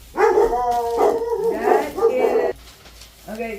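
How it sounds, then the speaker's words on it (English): Household dogs bark and whine in a loud, close string of barks, with someone talking over them before they fade. "I do apologize for my dogs. They bark over everything."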